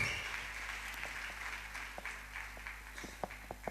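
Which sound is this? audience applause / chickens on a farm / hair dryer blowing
audience applause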